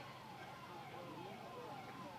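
An ambulance siren wails in repeated rising and falling sweeps, faint and distant, partly masked by the steady murmur of a large crowd at a rally of supporters.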